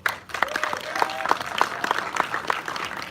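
A film festival panel audience gives a short burst of clapping, a scattered mix of hands applauding in a room, fairly faint and close.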